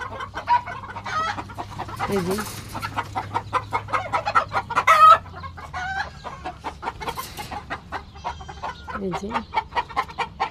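Large roosters kept on a farm among cattle cluck busily and close by, with an occasional crow rising over the flock, while someone speaks briefly in between.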